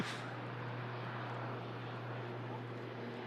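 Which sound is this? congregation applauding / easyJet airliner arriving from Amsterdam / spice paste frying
easyJet airliner arriving from Amsterdam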